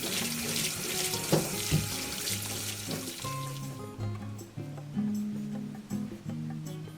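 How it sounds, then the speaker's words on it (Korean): Running tap water pours over a whole ripened melon as it is rinsed in a sink, a steady close splashing stream with small knocks and shifts of the fruit throughout. "자르기 전에 물에 한번 깨끗이 씻어주고"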